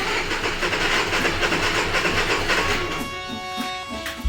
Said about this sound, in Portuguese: Mas é um geradorzinho gasolina.